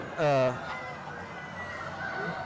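A single loud, drawn-out squawk from laced chickens comes first, then quieter flock noise and a voice talking underneath.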